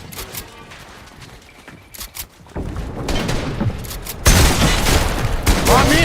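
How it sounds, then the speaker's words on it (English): Gunfire in the Fortnite video game, including sniper rifle shots, heard as sharp bursts of shots over dense game noise that grows louder and busier toward the end. "These guys are sniping."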